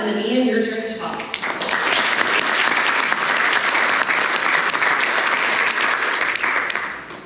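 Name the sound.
audience round of applause at awards gala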